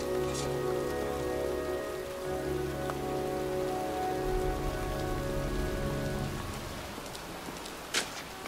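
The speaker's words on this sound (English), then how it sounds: "It's raining. I'm standing outside getting soaked." Steady rain pours down in a continuous hiss in the video game Heavy Rain, with a faint hum underneath and a brief sharper knock near the end.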